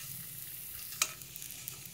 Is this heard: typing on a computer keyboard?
no